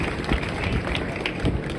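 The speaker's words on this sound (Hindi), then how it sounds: "तो एक बार जोरदार तालियां हमारी माताएं बहनें के लिए।" A crowd at an outdoor village chaupal gathering in Jalmana, Haryana claps for the mothers and sisters, a dense, continuous rattle of many hands without voices on top.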